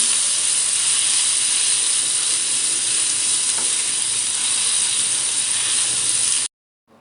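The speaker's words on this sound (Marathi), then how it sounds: "मसाला आपल्याला आता या फोडणीमध्ये पूर्ण मिक्स करून घ्यायचा आहे आणि थोडा परतूनही घ्यायचा आहे" Ground spices sizzle steadily in hot tempering oil while being stirred, a loud, close, continuous hiss that runs unbroken and then cuts off abruptly near the end.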